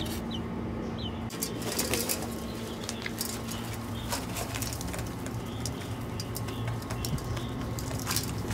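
Startled chickens flap their wings and take off: a close, busy flurry of fluttering and patter continuing throughout, with some rustling and scattered bird noises over a steady background.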